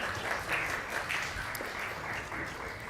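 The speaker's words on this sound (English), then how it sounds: "A round of applause for them one more time." An audience at an annual Tobago Day debate gives a round of applause to the judges, dense steady clapping filling the hall for a few seconds.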